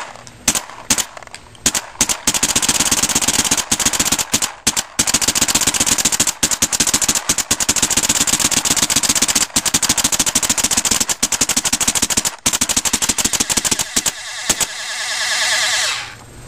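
WGP Autococker paintball marker firing paint in rapid bursts of sharp, loud shots, with brief pauses between strings and a short hiss near the end, no talk.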